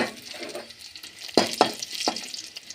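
Oil sizzles and crackles as dried red chilies are dropped into a hot pan, with a few sharp pops and spits over a low frying hiss.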